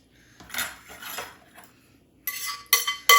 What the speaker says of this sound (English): I'm just gonna dump that into a big mixing bowl